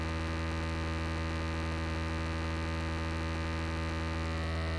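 Dense, steady modular synth drone from an Erica VCO driving a Fusion VCO through FM and wavefolding, a buzzing sustained tone rich in harmonics that holds at constant level throughout.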